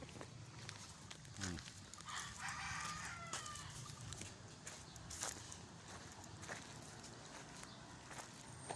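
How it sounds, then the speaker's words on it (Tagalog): Chickens cluck and a rooster crows outdoors at a moderate distance, with scattered footsteps and rustling nearby. "Dito maraming mga manok"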